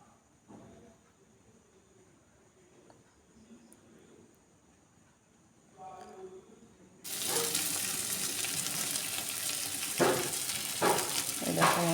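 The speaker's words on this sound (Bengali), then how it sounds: "মশলাটা প্রায় ভাজা হয়ে এসছে।" Spice paste for a spicy Bengali duck-egg curry sizzles loudly in a pan, a steady dense hiss that starts abruptly after a quiet stretch of faint background noise and stays strong to the end.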